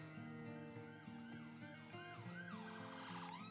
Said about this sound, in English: Don't know if you guys can hear a siren